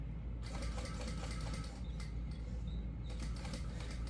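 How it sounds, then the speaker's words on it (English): A sewing machine stitching a zipper into compression stockings, a steady fast mechanical whir with short pauses between runs of stitches, close and clear. "so I'm going to sew that."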